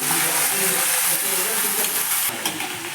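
Vegetables stir-fried in hot oil for veg pulao, giving a loud, steady close sizzle and hiss with soft stirring scrapes throughout.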